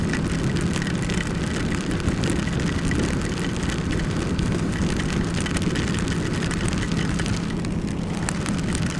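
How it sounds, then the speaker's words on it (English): Pouring rain roars steadily over wind noise throughout a ride on a 2016 Ducati XDiavel motorcycle, a loud, dense, continuous wash with no talking. "This rain is legit insane."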